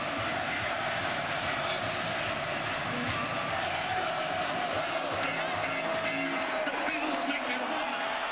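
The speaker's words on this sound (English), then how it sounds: "This crowd's too good. I'll let you enjoy the crowd." A football stadium crowd roars steadily and loudly at a Buffalo Bills home game against the Dallas Cowboys, a dense continuous wall of cheering with no break.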